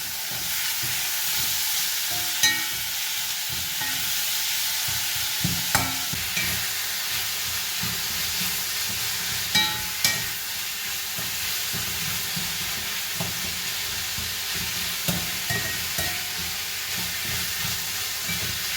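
Onions and tomatoes sautéing in a pan, a continuous close sizzle with scattered clicks and scrapes from stirring, no talking.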